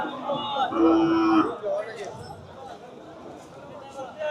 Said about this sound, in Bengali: এখানে অনেক গরু দেখতে পাচ্ছি